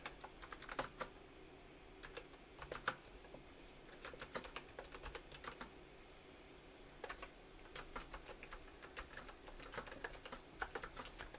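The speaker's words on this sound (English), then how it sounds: "Oh, it's so hard to type." Sharp clicks of fingers typing on a computer keyboard come in quick irregular bursts with short pauses, close and fairly quiet over a low room hum.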